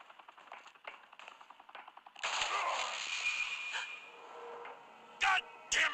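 Gunfire in the video game Batman: The Telltale Series starts as rapid, evenly spaced clattering shots, then swells into a sustained roaring barrage with a couple of sharp bursts at the end.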